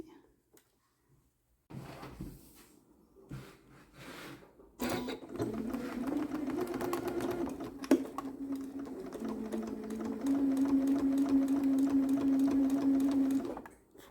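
Sewing machine stitching quilt fabric, a close, steady mechanical whir that starts after a few clicks and handling knocks, runs in bursts and then holds a continuous even hum, with a voice speaking at moments.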